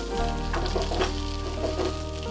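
Fish head frying with bitter eggplant in a pan, a loud, steady sizzle throughout with soft stirring scrapes mixed in.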